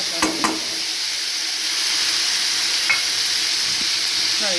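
A spice paste of ginger, tomato, onion and raw turmeric hits a hot frying pan and sizzles loudly and continuously, hissing with steam, along with a few clinks of a utensil near the start.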